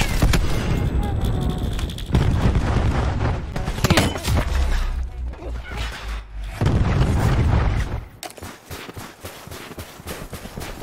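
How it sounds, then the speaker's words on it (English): Cluster grenade blasts in Call of Duty: Black Ops 4, a dense run of loud booming explosions and crackling gunfire-like bursts layered with game noise, easing after about eight seconds into fainter rattling detonations. "Throwing cluster grenade."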